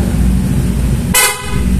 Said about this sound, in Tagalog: Tapos PIA horn,